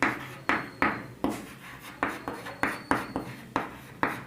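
Pen strokes on paper during a handwritten math lesson on polynomial division, about a dozen sharp, rhythmic scratches close up at an even pace, each fading quickly, with no talk.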